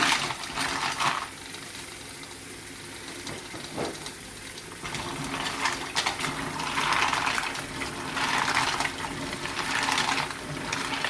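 Tap water runs steadily over mussels being rinsed in a kitchen sink, a continuous close splashing hiss that swells and changes as the shells are moved under the stream, with no talking.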